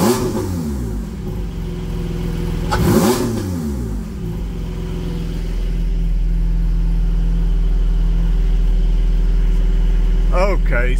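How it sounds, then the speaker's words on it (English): A cold Porsche 718 Cayman GT4 in Racing Yellow fitted with a SOUL exhaust, revved gently while stationary, with a sweeping rev rise around three seconds before settling into a steady, loud idle drone, with a final short blip near the end. "here's what it sounds like revving it up a little bit"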